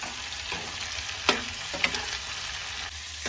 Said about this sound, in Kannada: ಇದರೊಳಗಡೆ ನಾನು ಇವಾಗ ಟೊಮೆಟೊನ ಹಾಕ್ಕೊಂಡು ಇದನ್ನು ಕೂಡ ಒಂದು ಸ್ವಲ್ಪ ಮೆತ್ತಗಾಗೋವರೆಗೂ ಫ್ರೈ ಮಾಡ್ಕೊಳ್ತೀನಿ